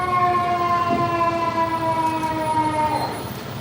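A fire truck siren in the London Bridge Days Parade at Lake Havasu wails steadily with sustained rising and falling tones over low engine rumble, loud and continuous throughout.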